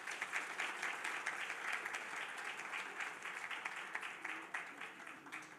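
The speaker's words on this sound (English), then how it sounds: "Let's a round of applause for him again," Sustained audience applause fills an awards ceremony hall, steady dense clapping throughout with faint voices mixed in, moderately distant and even in level.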